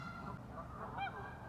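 Faint honking of Canada geese somewhere in the distance, a few calls rising over a steady outdoor rumble near frozen winter water.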